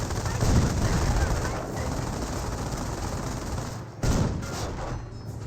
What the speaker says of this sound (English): but receive some more shots on the retreat